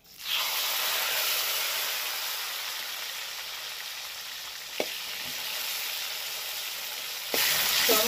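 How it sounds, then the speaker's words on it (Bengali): A whole slit tomato frying in hot oil in a clay pot, a steady loud sizzle and hiss throughout, with a couple of soft knocks and a burst of stronger sizzling near the end. "টমেটোটা একদম নরম হওয়া অবধি ভেজে নেব"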